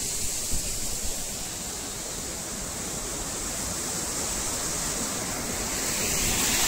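A waterfall in Tansa Wildlife Sanctuary near Shahapur pours in a steady broadband roar, with continuous splashing water and no voices, swelling slightly louder toward the end.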